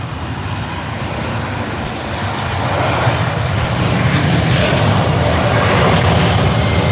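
A Boeing 787 airliner with General Electric engines passes overhead near Heathrow, a loud, broad engine roar that swells after the first couple of seconds and holds steady, with no talk.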